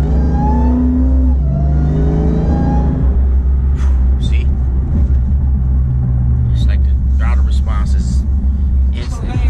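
A Dodge Charger Hellcat drives with a deep, close engine rumble and a brief rising rev early on, under people talking.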